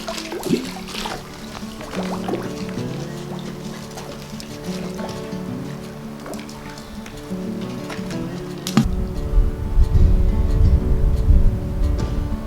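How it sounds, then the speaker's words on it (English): A small brook in the Canadian wilderness in spring trickles and burbles steadily, close by, with rustling and a louder rushing surge near the end. "Now this brook here is my favorite one out here."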